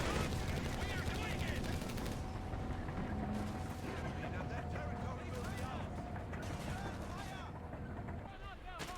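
Dense battlefield gunfire and explosions from a Company of Heroes 3 match as a Wehrmacht Nebelwerfer rocket artillery barrage comes down, a continuous loud rumble of overlapping blasts and rattling fire under a voice speaking throughout.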